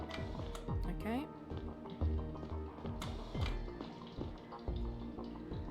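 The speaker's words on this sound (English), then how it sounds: "I hear water." Water drips in a video game, a scattered run of light taps and plinks amid echoing ambience and layered background sounds, with no clear voice on top.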